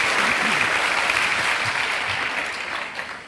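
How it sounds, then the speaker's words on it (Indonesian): A church congregation applauds the praise and worship team during a Sunday service; full, sustained clapping from a large crowd fills the room, slowly tapering off toward the end. "Boleh tepuk tangannya di extend buat tim praise and worship kita."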